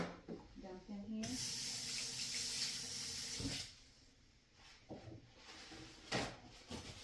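A kitchen tap runs in a steady hiss for a few seconds while a whisk used for pancake batter is rinsed under it, followed by quieter clinks, splashes and handling as the water stops.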